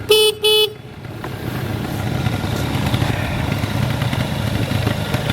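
Horn of a 1986 Honda Spree scooter tested on the bench, two short loud honks in quick succession, then a steady low engine or room rumble carrying on beneath.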